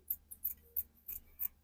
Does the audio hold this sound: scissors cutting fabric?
yes